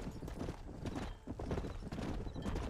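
Rhythmic horse hooves in the video game Red Dead Redemption clip-clop steadily over a noisy background, with occasional whinny-like sounds mixed in.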